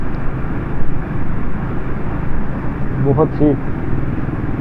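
A motorbike ridden through heavy fog on a city road, a constant low engine drone with wind rumble, and someone speaking briefly over it.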